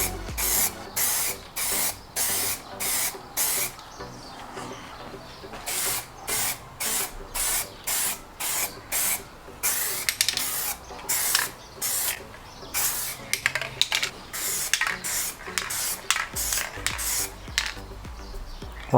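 Short bursts of spray paint hiss in a steady rhythm with brief pauses between passes, coating removed Fiat Barchetta hardtop headliner parts up close.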